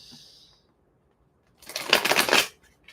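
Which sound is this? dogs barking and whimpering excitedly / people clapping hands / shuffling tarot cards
shuffling tarot cards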